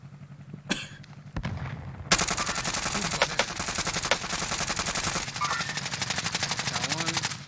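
Rapid automatic gunfire from an MP5 in Call of Duty: Warzone, sustained loud rattling bursts after a few opening shots, dense and continuous, with faint voices underneath.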